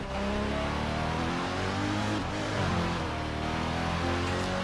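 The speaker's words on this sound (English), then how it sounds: "our final race in this miniature tour that I have decided to do across the US in my Pagani Zonda" Pagani Zonda racing in Midnight Club 3: DUB Edition Remix, a steady engine roar with tire and road noise, loud and continuous with slight rises in pitch as it accelerates.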